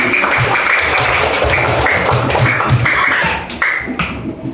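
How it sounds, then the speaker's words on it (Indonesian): Children clapping together in an elementary school classroom, a steady, fairly loud round of applause that fades near the end. "Tepuk tangan buat Adis."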